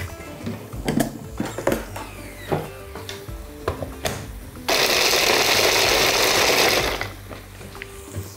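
A kitchen mixer lightly crushes about 50 grams of walnuts for a spelt pilaf: a few clicks and knocks, then a loud, steady whirring grind that runs for about two seconds and stops abruptly.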